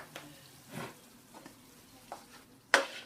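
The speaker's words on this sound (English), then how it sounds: "I'm gonna put the sauce into the saltfish that we shadow fry earlier on" Aubergine sauce is stirred into pan-fried saltfish in a pan, giving a few soft scraping stirs and a faint sizzle, capped by a sharp utensil clink near the end, with no talk.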